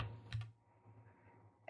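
A single computer keyboard key press clicks sharply near the start, followed by a quieter click at the end, over a steady low room hum.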